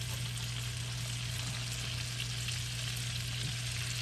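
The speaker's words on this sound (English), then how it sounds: "we're just going to drop it right in there and fry it just like we did before" Broccoli fries in butter in a skillet, giving a steady, even sizzle with soft crackling that runs throughout, alone and close up, over a low constant hum.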